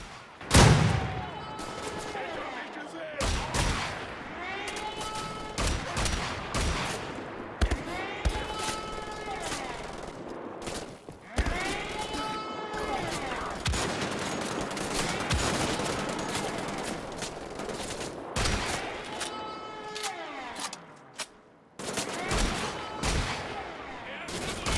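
Heavy gunfire from Wolfenstein The Old Blood, with repeated bursts of shots and loud impacts through the whole stretch, and a voice talking over the combat at times.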